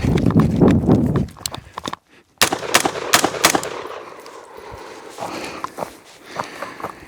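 Pairs of sharp gunshots ring out during a CQB warm-up shooting drill, two rounds per target fired standing after a run from the 40 to the 20, following heavy rustling movement.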